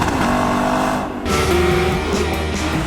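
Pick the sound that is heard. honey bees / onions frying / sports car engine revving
sports car engine revving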